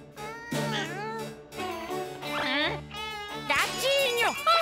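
A small cartoon kitten meows several times in high, bending cries, with a voice and faint jingling mixed in.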